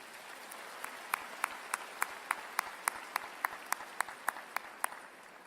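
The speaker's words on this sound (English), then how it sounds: "Let's give them all a round of applause" Applause at a university spring commencement comes across as faint, evenly spaced individual claps in a steady rhythm, about three per second, heard from a distance against quiet room noise.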